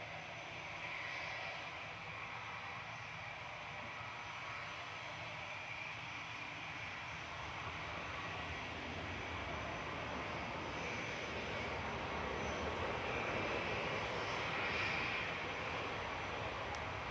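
A Boeing 787-9 airliner on approach at Manchester Airport, flight from Abu Dhabi, producing a steady, broad engine roar that swells slightly toward the end and stays continuous without talk.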